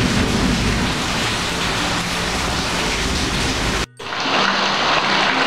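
Heavy rain with wind pours down in a loud, dense hiss, with a brief dip near the end before the downpour continues.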